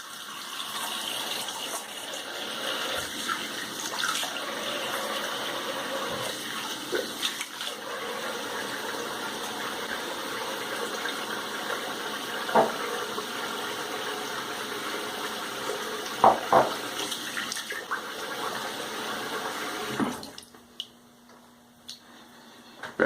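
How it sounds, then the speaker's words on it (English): A tap runs steadily as a freshly shaved head is rinsed off, a continuous close gush of water with small splashes and bumps, then the flow cuts off near the end. "Rinse off here."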